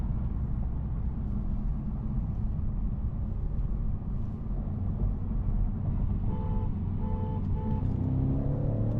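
Cars on the road, heard as a loud, continuous low rumble of engine and tyre noise from inside a moving vehicle, with a few short electronic beeps partway through.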